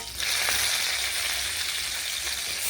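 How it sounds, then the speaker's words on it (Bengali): Chopped onions sizzle in a pan with a steady, close, fairly loud hiss that runs throughout, broken by a faint scrape or stir here and there. "পেঁয়াজগুলো হালকা লাল করে ভেজে নিয়ে নেওয়ার পরে"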